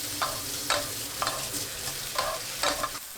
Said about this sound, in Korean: 팬에 버터 30g 넣고 중불로 녹입니다. 표고버섯 넣고 3분 30초 볶아주세요.